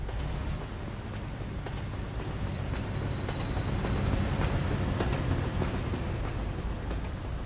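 A passing freight train rumbles loudly and continuously in American Truck Simulator at evening, a heavy low roar with faint clanks, swelling slightly midway and holding steady to the end.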